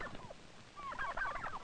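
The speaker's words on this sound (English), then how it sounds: "Turkeys are poultry, just as chickens and ducks." Turkeys on a poultry farm gobbling in a short burst of rapid, warbling calls, the first faint and the second louder and fuller, with no voices.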